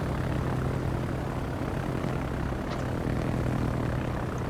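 Propeller aircraft drone continuously in World of Warships, a steady moderate engine hum with no other sounds.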